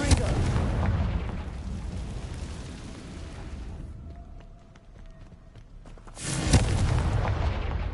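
Confringo fire-blast spell explosions in the video game Hogwarts Legacy: a loud, rumbling broadband blast sustains for several seconds, fades into a quieter lull with a faint whine and crackles, then a second heavy burst erupts near the end.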